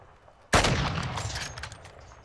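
A burst of gunfire from a video game shootout erupts suddenly. It is close and loud and decays into a rolling, crackling tail.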